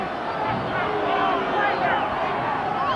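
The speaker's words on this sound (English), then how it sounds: "Crowd calling for a knock on." Rugby league crowd at a 1993 provincial grand final between Canterbury and Auckland, a steady roar of many voices rising in protest as they call for a knock-on, continuous and dense throughout.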